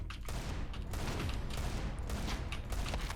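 Dense bursts of Desert Eagle pistol gunfire in a video game crackle repeatedly, a rapid volley of shots over a steady noisy backdrop.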